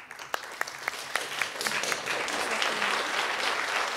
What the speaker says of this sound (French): Je souhaiterais qu'on fasse une belle main d'applaudissements pour Kautar Ouarak.